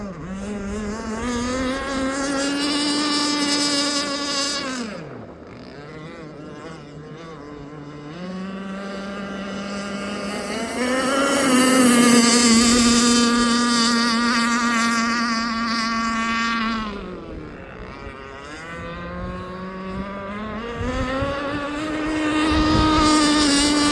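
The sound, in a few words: gas RC boat with Zenoah 29cc engine running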